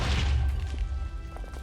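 Explosive fireball blast in Minecraft, a single heavy booming crash with a deep rumbling low end that fades out over a second or so.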